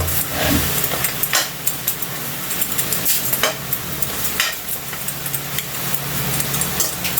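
Pork fries in its own rendered fat for green bean adobo, crackling loudly and close with sharp spitting pops over a constant sizzle.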